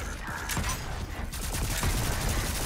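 Gunfire in the video game Volcanoids, a dense burst of rapid shots in overlapping volleys, loud and close, with sharp repeated cracks running through the whole stretch.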